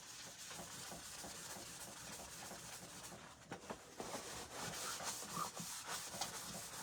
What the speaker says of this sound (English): my board eraser takes off everything